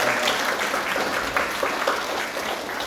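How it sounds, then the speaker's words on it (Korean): A church congregation applauds as two young men come forward, a loud, dense burst of clapping that holds steady for a few seconds. "오래간만에 두 친구 나오면 다 박수 한번 할까요?"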